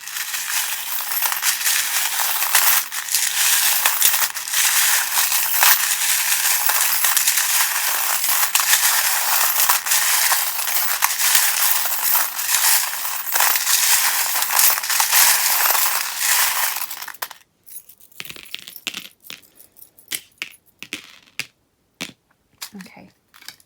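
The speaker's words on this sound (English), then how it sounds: "do turn down the volume just while I shuffle" A deck of tarot cards is shuffled for a pick-a-card reading, giving a dense, continuous crisp riffling and rustling up close for about seventeen seconds, then scattered soft taps and clicks as the cards are handled.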